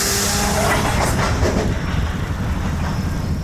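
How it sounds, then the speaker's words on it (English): A coal train near Tampa rumbles loudly on the rails. Over the first second and a half a breathy hiss of air rises as the train line air brake pressure dumps, then fades into steady low clatter. "That small puff of air that you heard over that last clip was the train line air pressure dumping."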